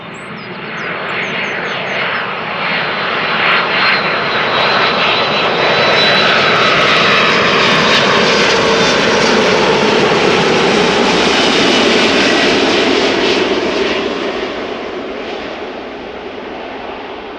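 A 15-year-old airliner, first flown in August 2007, thunders past at Amsterdam Schiphol Airport, its jet roar building over a few seconds, holding loud and broad, then fading away toward the end.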